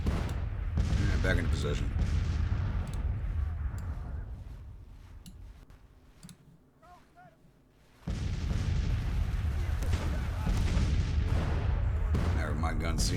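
Massed musket volleys and booming artillery from a Civil War battle in Grand Tactician, loud and sustained with a quieter lull midway before the roar returns; someone speaks briefly over it.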